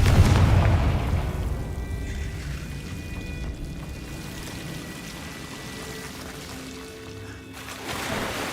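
A Confringo spell explosion in a Harry Potter video game gives a loud boom that fades into a long, rumbling decay, with a softer burst near the end.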